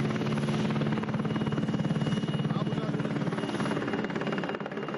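Firefighting helicopters fly over the Hřensko wildfire, their rotors throbbing in a steady, loud, continuous beat that fades slightly at the end. A voice speaks underneath.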